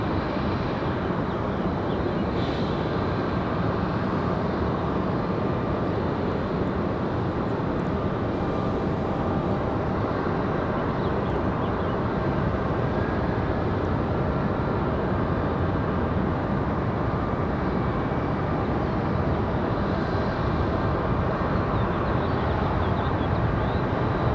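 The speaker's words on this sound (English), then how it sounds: "Good sounding departure out of that A320." Spirit Airbus A320 departing runway 23 left at Raleigh-Durham, a continuous loud broadband engine roar that holds steady throughout, far from any talk.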